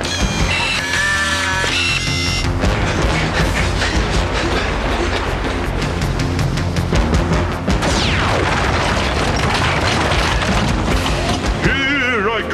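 In an animated action cartoon a cannon fires amid booming explosions and rumbling, loud and dense, with music and effects piled throughout.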